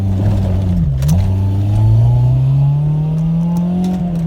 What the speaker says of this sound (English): So just taking it out for a little drive right now.